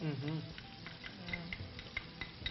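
Garlic fries in a hot pan with a steady, quiet sizzle, while soft stirring scrapes and light clicks of a utensil recur against the pan; a voice is briefly heard at the start.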